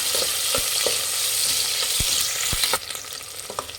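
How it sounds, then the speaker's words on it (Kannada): Onions frying in a pan for a tomato rice bath, a bright hissing sizzle that is loud and close, with occasional sharp knocks from a stirring spoon. The sizzle eases slightly near the end, and there is no talking. "ಈರುಳ್ಳಿ ಸ್ವಲ್ಪ ಫ್ರೈ ಮಾಡಿ"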